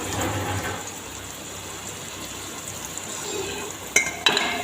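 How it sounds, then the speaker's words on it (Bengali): Masala paste stirring and frying in hot oil, a steady soft sizzle with faint scraping, ending in a couple of sharp utensil clinks near the close. "ভালো করে মশলাটা কষিয়ে নেব"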